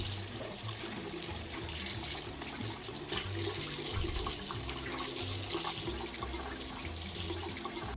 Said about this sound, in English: just run them under warm water, and then I'm gonna kind of like comb out the extra gunk with just this comb.